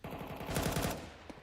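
Counter-Strike gunfire rattles in a rapid automatic burst, loud and dense, then trails off with a couple of scattered shots.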